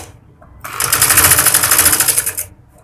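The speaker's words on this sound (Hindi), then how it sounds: "पलट के इसको सिलाई लगा के इसे पक्का कर देंगे" Sewing machine stitching the dori piping on a baby girl's lined kurti, running in one loud, steady, fast mechanical whir for about two seconds, then stopping.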